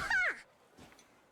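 A single short, bright meow from a cat in a video game, loud and close, followed by a brief faint rustle.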